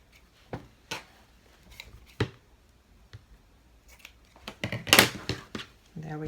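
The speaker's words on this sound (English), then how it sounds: "We'll just trim those up, get all the excess thread out of the way." Scissors snipping excess thread from a sewn tote bag, several short, crisp cuts spaced irregularly and heard up close, with rustling of the fabric between snips.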